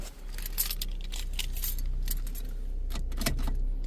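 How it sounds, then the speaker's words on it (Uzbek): Car keys jangle and click as the key is pushed into the ignition lock of a Chevrolet Cobalt, a run of close metallic rattles over a steady low idle hum, with no talking. "kelib kalt zamokni tiqiladi."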